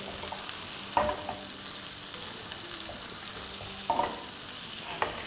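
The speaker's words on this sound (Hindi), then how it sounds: "देखिए हमारी पेपर्स एंड अनियन बड़े अच्छे से भुन रही है" Peppers and onions frying in a pan for chicken chili, a steady close sizzle running throughout with a few scraping stirs of a spatula, no one talking.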